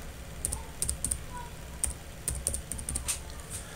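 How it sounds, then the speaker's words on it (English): Quick bursts of keystrokes on a computer keyboard typing a search into a web marketplace, several short clusters of clicks at close range over a quiet room hum, with no one speaking. "So right there in the Azure Marketplace, type WordPress."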